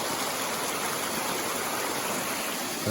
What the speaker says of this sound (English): The rainwater running off the mountain. There's a big old lot of water coming down this mountain.